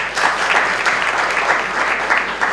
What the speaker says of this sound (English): Let's clap for him one more time